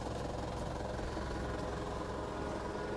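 Engine of a broken-down vehicle with a flooded motor, stranded on a rough road near Buyo, running in a steady low rumbling idle at moderate volume without talking.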